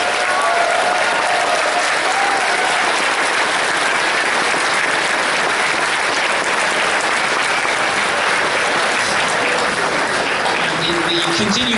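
Audience applause at a furry convention opening ceremony, a dense, loud, sustained wash of many hands clapping that continues without a break, with faint voices mixed in underneath.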